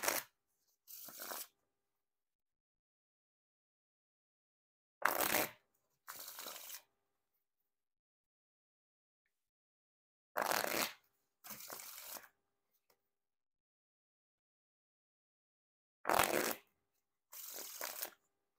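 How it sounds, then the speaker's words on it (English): Ireland playing cards being riffle shuffled, three repeated rounds each made of a crisp fluttering riffle followed by a softer bridge cascade, close and clear with silent pauses between. "And now time for the riffle shuffle or bridge shuffle."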